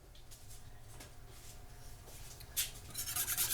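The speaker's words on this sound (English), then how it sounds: "Stir that up until you get your roux mixed in there." A whisk scrapes and rubs steadily through roux stirred into gravy in a pan, a close, soft rasping that swells louder near the end.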